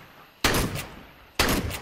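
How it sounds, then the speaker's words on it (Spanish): Two loud MAG-7 shotgun blasts in Counter-Strike 2, sharp and close, each with a short ringing tail, spaced about a second apart. "La mag, obvio, son más concentrados los tiros."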